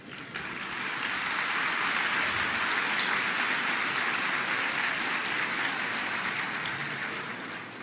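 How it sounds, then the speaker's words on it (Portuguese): A congress audience at a Spiritist gathering breaks into steady, dense applause that swells and holds evenly, a wash of many hands clapping at once with no voices on top. "As palmas é para o Kardec, né?"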